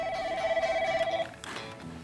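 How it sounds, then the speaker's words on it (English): A telephone rings with a steady electronic trill that stops partway through, fairly faint, with a bit of room noise after it. "Royal, get the phone."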